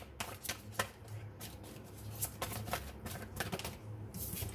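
A True Love oracle card deck is shuffled close up, a quiet run of quick papery riffles and soft flicks in irregular bursts with faint low background hum.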